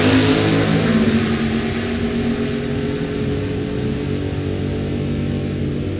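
Drag race cars launching side by side, a 1968 Camaro and a Vega wagon, with a loud, steady engine roar that stays strong throughout and is heard alone.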